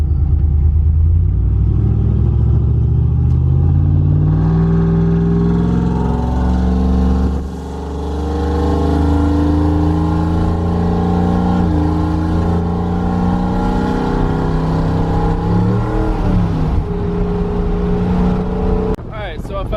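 A 6.0 LS V8 swapped into a Cadillac Coupe De Ville accelerates with a loud, steady engine drone that climbs in pitch, dips briefly, then pulls again for nearly twenty seconds.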